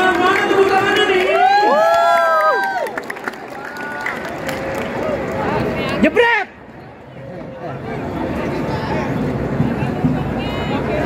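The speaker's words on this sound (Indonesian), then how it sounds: "Tepuk tangannya mana nih?" Stadium crowd at a Jakarta football friendly tournament, shouting and cheering loudly as a dense roar, with whistle-like calls and some clapping; the noise drops briefly partway through before the crowd swells again.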